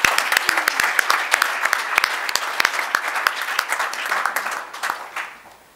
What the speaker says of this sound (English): let's give them all one big round of applause